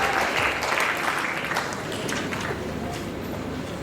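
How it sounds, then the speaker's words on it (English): School assembly audience applauding closing remarks at an antibullying event, a loud, sustained wash of many clapping hands from a large crowd, fading slightly as it goes on. "Can we give Nabil a round of applause for the closing remarks?"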